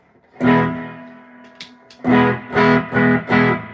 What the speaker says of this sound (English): a little bit of more grit, distortion, or overdrive